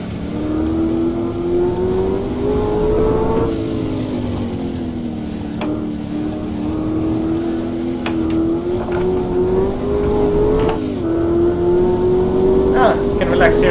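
A race car engine in the rFactor racing game holds a loud, steady drone that rises and falls as it revs through gear changes, with someone talking over it.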